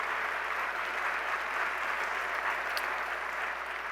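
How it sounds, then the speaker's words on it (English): Sustained applause from a large audience at the CUNY State of the University address, a dense even wash of clapping held at steady loudness throughout. "I want to ask for another round of applause for your support to all the work that we do"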